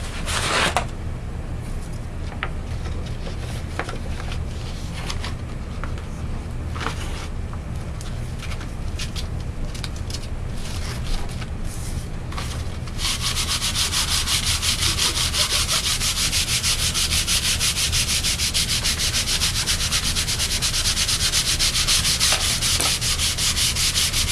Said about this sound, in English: So the first thing I'm going to do is I'm going to sand